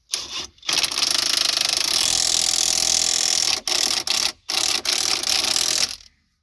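A ratchet wrench tightening a front strut bolt on a Town & Country or Dodge Caravan, heard as loud, close, continuous rapid clicking broken by several short pauses before stopping.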